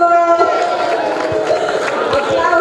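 A crowd cheers and claps for graphic designer Giuseppe Alfieri at an end-of-event ceremony, a steady, loud mass of voices and clapping with some shouting throughout.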